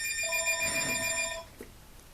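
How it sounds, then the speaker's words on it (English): A telephone rings in a workshop during a 1925 Ford Model T engine rebuild, one sustained electronic ring with steady harmonics lasting over a second, then cutting off to quiet room tone with a faint knock. "And apparently I have a phone call."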